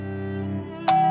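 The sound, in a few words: doorbell being rung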